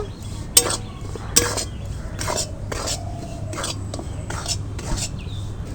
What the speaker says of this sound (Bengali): ময়দাটা ভাজছি ময়দাটা ভেজে নিতে হবে